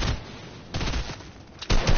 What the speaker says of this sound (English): No, they're shooting.